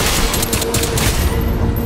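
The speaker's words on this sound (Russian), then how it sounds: "пулемет не может толком его убить" A loud, dense burst of machine gun fire from the Crysis 3 video game rattles continuously, close and heavy, with no gaps.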